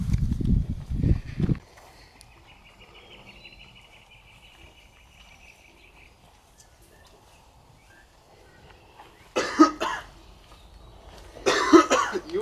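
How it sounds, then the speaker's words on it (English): A few harsh coughs up close, a quiet stretch with faint background hum, then two more bursts of coughing near the end. "That cough doesn't sound too good."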